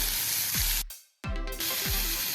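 Chopped tomato sautéing in a pan for coconut kofta curry gives a steady, close sizzle that cuts out briefly and then returns, with soft swishes of stirring.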